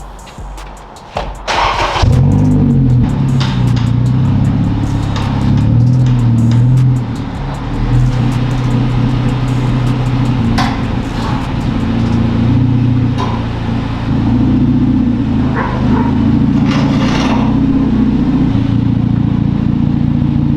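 A Honda Civic Si being driven after a rebuild: steady engine drone with low harmonic rumble runs loud and close through the whole stretch, after a brief quieter start.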